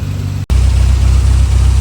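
A 1962 Triumph TR4 engine idles steadily up close, a loud low rumble that drops out briefly near the start before resuming evenly.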